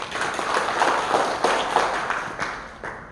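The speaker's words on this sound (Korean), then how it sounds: "그럼 박수로 맞아주시기 바랍니다." An audience at a Chungcheongbuk-do provincial council policy forum claps to welcome a speaker, giving brief, moderately loud applause of scattered hand claps that fade within a few seconds.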